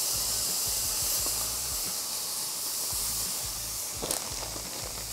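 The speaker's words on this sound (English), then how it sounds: "I want the water to kind of steam off, and that will help cook the vegetables." Frozen vegetables with carrots steam in a hot pan without oil, giving a steady, close, broadband hiss that holds throughout, with faint crackles and stirring noises and no voices.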